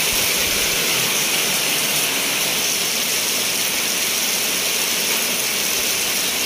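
Steady, dense rain hisses close by during the rainy season in Malaysia, a constant wash of noise with no pauses or voices.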